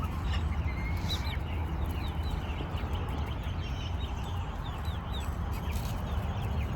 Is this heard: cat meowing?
no